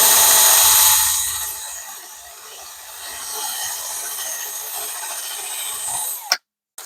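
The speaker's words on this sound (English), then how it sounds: "we're going to go ahead and drill the holes for" A steady, high-pitched whirring drone from a power drill boring tuner holes into a Stratocaster guitar headstock, easing slightly midway and then abruptly stopping.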